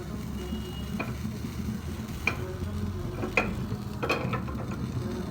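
Tandoori-style potatoes are turned as they cook in a pan, with a steady low sizzle and a few sharp utensil clicks spaced about a second apart, close by.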